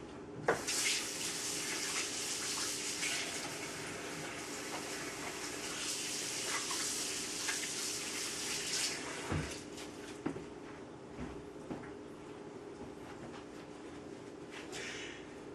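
Hands are washed under a running kitchen tap, a steady close rush of water with small splashes and shifts in the flow, then a few knocks and clatters near the end.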